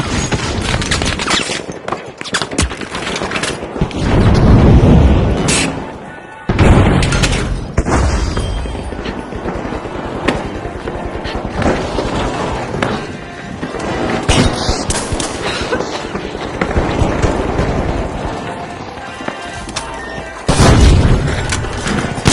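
Frag grenade blasts and gunfire in the shooter game The Finals, heavy booming explosions crashing repeatedly over rapid bursts of shots, loud and dense throughout with little pause.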